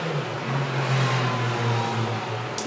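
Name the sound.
motorcycle passing by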